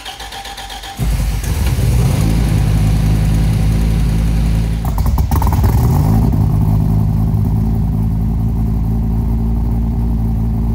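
A Viper V10 engine swapped into a Nissan 240SX runs loudly close by, a deep, steady rumble with a brief rise in revs partway through before it settles back to a rough idle.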